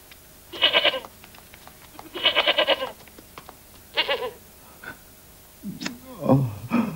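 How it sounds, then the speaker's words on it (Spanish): A goat bleats in several separate, wavering calls, close and fairly loud, followed by lower sounds near the end. "Su cabra."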